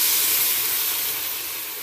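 Water is poured onto fried masala in a hot pan, setting off a loud, steady hiss of steam and sizzle that slowly fades.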